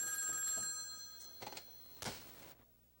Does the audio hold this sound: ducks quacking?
no